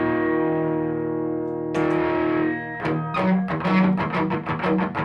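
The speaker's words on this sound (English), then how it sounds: "So there's the distorted sound." An electric guitar through heavy distortion from a Caline CP-26 Mark IV pedal: a long sustained chord rings out, then a new chord, followed by a string of rhythmic distorted strums.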